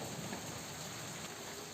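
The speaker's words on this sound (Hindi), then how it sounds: "उसी तरह से बारिश हो रही है।" Heavy monsoon-style rain pours down on a rainy day in Jhansi, Uttar Pradesh, a dense, steady hiss of countless drops drumming on surfaces, close and unbroken, with no voices.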